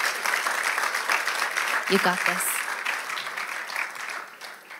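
Applause from a church or ministry audience, a dense steady wash of many hands clapping throughout, with a brief voice calling out encouragement partway through before the sound thins toward the end.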